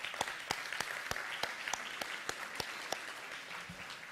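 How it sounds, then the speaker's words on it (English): An audience at an alumni reception and dinner claps in a round of applause, with distinct, fairly sparse hand claps sounding at a moderate distance and quiet level for about four seconds. "They deserve a round of applause from all of us."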